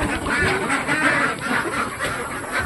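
Pet ducks quack in a steady run of close, loud, overlapping calls. They are laying-age farm ducks.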